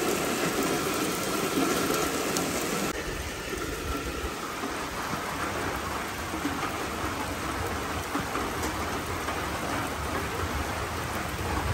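Heavy rain falls in a steady, dense hiss, moderately loud and unbroken, with a low rumbling layer beneath and no voices over it.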